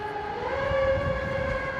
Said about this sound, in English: I'm going to wait till the siren goes by.